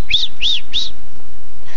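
A small pet bird chirps three quick, bright, loud notes in an even rhythm close by, followed by quiet room tone.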